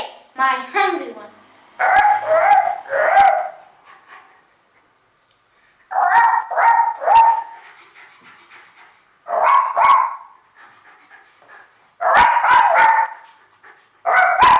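Someone imitates a hungry dog with clusters of quick whiny barks and yips, repeated in bursts with quiet gaps, close and clear.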